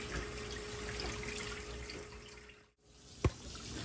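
Pumpkin seeds are rinsed by hand in a bowl of water, a soft continuous sloshing and trickling close by, with a brief sharp splash near the end.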